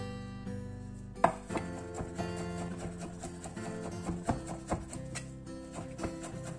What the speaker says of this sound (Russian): мы нарежем копченую куриную грудку с соломкой